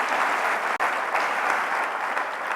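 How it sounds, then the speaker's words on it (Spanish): Church congregation applauding during a Spanish-language sermon, a dense, even wash of many hands clapping at once with no talk over it. "Yo quiero que demos un aplauso al Señor por esas personas."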